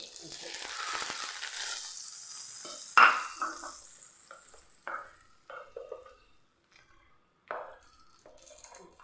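A burst of hot-oil sizzling that fades out, followed by a few sharp clinks of a spoon against a pan and brief quieter stirring.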